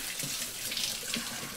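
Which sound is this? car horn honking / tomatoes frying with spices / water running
water running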